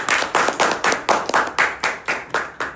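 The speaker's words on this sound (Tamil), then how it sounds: "ஒரு கைத்தட்டு கொடுக்கலாம்." An audience at a Tamil language society meeting claps in unison, about a dozen crisp, evenly spaced claps in a steady rhythm, fairly close and clear.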